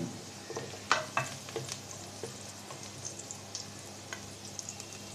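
Onion and garlic frying in oil, with a soft, steady sizzle and scattered crackles and pops at a fairly low level, plus an occasional clink from stirring.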